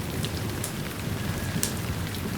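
Steady heavy rain pours outdoors, a continuous dense hiss of drops with a few brief sharper splashes, and no voices.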